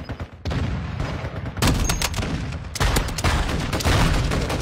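Sustained rapid gunfire in a shooter video game, dense bursts of close, loud shots rolling on without pause.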